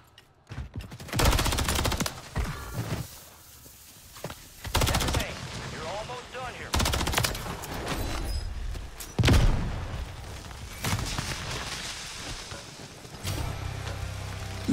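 Gunfire in the Warzone 3 video game: bursts of loud, close automatic shots, separated by brief pauses, with sharp rapid cracks and booming hits.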